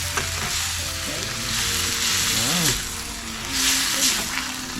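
Labong (bamboo shoots) frying in a pan while being stirred, giving a steady loud sizzle with scraping stir strokes throughout and some faint background sounds.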